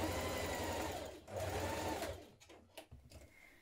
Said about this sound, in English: stitch from here all the way down to the bottom of the skirt